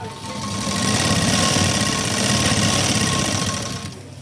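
A sewing machine runs a line of stitches through the main fabric and its lining, a loud, fast, close mechanical rattle that speeds up, holds steady and then slows to a stop.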